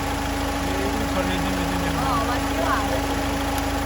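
Overheated Mahindra Thar engine idling at the roadside on a deserted road at night, a steady low hum with a constant tonal drone, faint background voices over it.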